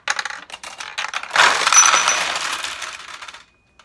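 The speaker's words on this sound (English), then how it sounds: "drop a ball into one of the pockets. And if you just watch, I don't know that you'll see the ball, but you'll hear it" A ball in a Mizuho pachinko machine drops into a pocket: a quick run of light metallic clicks, then a denser rattling clatter that fades out over about two seconds, close and clear.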